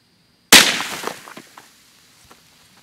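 .22 rifle fired at a row of cans: one sharp, loud shot cracks close by, then a short ringing decay with faint rattles from the cans.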